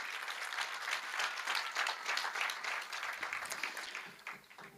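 A seated audience at a televised courtroom-style show with a Jain acharya claps loudly and steadily for several seconds, then the applause begins to fade at the end.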